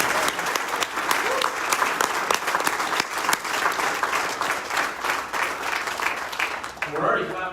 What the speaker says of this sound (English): We're already clapping